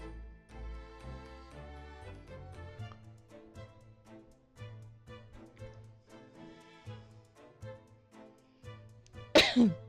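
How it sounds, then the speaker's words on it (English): A single sharp cough bursts out near the end, after a stretch of quiet background music with rhythmic low notes. "This damn cough is back."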